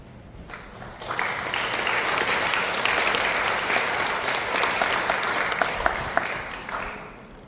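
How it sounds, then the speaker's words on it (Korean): A congregation at a special prayer gathering gives a welcoming round of applause as a pastor comes forward, starting around a second in, holding steady with distinct individual claps, then tapering off near the end. "이제 우리 나오실 때 환영의 큰 박수를 보내주십니다."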